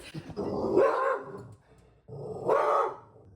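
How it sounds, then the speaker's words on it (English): A dog barks indoors, two drawn-out, growly woofs separated by a short pause, fairly close and clear, with no speech over them. "That was my dog, Mary Jane."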